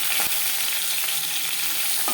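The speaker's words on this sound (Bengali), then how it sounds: "মাছ ভাজা হয়ে গেছে," Fish sizzles in hot oil in a pan, a loud, dense, continuous frying hiss with no voices.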